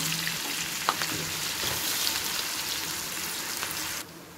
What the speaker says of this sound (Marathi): तर आपले कांदे छानपैकी ब्राऊन होईपर्यंत आपण छान तेलामध्ये परतून घेणार आहोत.